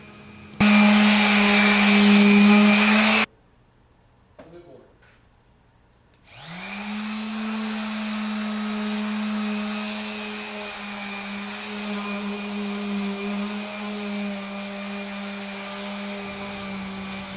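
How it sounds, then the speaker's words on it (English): A power sander works over barndominium chipboard, first a loud whining burst, then a pause, then a steady droning hum that settles in and runs on close by. "Somewhere during this marathon, the pad came off of my sander."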